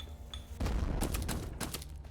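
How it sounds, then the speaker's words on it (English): An explosion erupts in the video game Lost Skies as something is destroyed: a sudden broad blast with crackling bursts that rolls on for over a second, with no talk. "I love the explosion noise when you destroy something"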